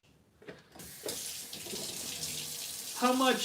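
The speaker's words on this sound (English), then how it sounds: "let me rinse my hands off." Hands rinsed under a running kitchen tap, the water switched on and splashing steadily close by, growing louder toward the end, with a voice briefly heard.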